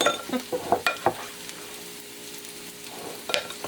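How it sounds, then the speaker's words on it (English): A knife stirs egg into potato stuffing in a bowl, making several quick scraping, clicking strokes up close, then a quieter stretch before a few more soft taps. "The egg. Stirring with a knife."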